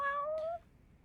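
A cat in the video game Judgment gives a single clear, drawn-out meow that rises slightly before ending, close and fairly quiet, followed by near silence.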